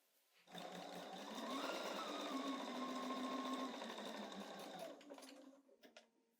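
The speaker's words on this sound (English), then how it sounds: "let's go sew that" A sewing machine stitches pieces of quilt fabric in one steady run of about four seconds, a close, even whir that winds down into a few brief stops.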